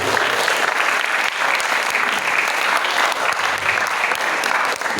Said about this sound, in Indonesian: tepuk tangan buat Ustadz Suwarna.